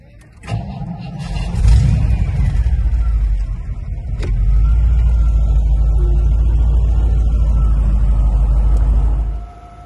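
A Ford Fighter pickup with a 5.8 engine cranks and starts, then settles into a loud, deep, steady idle rumble close by, running evenly for several seconds before cutting off.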